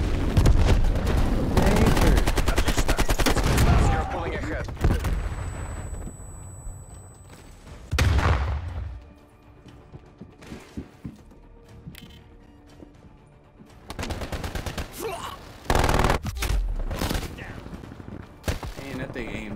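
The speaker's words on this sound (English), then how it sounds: "Hostile sentry turret active." Bursts of rapid gunfire from a sentry turret and other weapons in the Call of Duty Cold War video game, loud rattling volleys that come and go between quieter gaps, with players talking over them.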